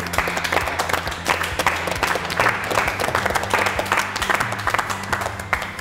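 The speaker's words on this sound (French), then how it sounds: "c'est moi qui vous applaudis" Sustained applause fills the room throughout, dense clapping from a group steady and fairly loud, with no voices clearly above it.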